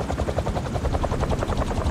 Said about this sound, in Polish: Śmigła helikoptera.